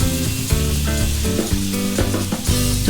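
Bean sprouts and fried tofu sizzle in a pan while being stirred, a close, continuous crackle broken by repeated scraping strokes and soft clunks of the spatula.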